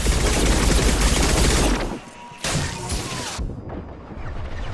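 Gunfire in Mass Effect combat, a rapid crackling fusillade of shots and impacts that stops briefly, then bursts back with more shots and a trailing crash, near and loud with no talk.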